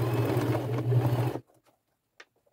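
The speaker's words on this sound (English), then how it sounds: "stitch all the way across, stop outside of the flap, and I'll go back and do it again" A sewing machine fitted with a denim needle stitches across a thick upcycled boho backpack at the flap, a steady loud motor whir for over a second that stops abruptly, leaving near silence with a few faint small clicks.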